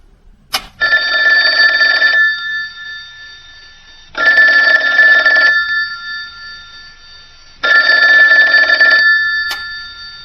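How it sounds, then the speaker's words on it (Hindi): An old-style telephone bell rings in three long bursts with silent pauses between them. The ringing is loud and close, with a sharp click at the start and another near the end. "अचानक फोन की घंटी बजी।"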